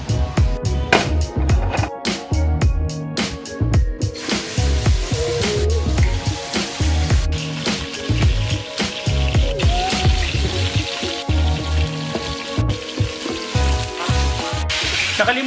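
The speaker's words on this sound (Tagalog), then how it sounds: "sisir natin yung chicken, meaning iluluto natin to over very high heat" Chicken searing in oil over very high heat sizzles and spatters up close, with bursts of crackling and clattering utensil hits and some talk mixed in.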